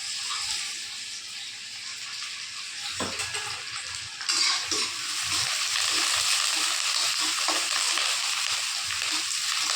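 Chopped onion and green chili sizzle and fry in hot oil in a pan, a steady close crackle that swells louder partway through, with no talking.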